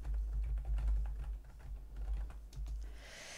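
Keys on a computer keyboard are tapped in quick, steady runs while a query name is typed into a database program, close and clear over a low room hum, with no talking.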